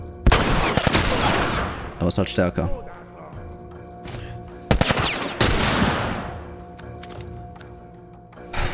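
Gunfire in the video game The Last of Us comes as several loud, sharp bursts with separate single shots between them, while someone talks over the action.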